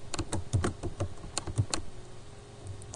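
Fast typing on a computer keyboard, entering an SQL injection test string into a web login form: a brisk run of close, crisp key clicks with uneven rhythm and no talking.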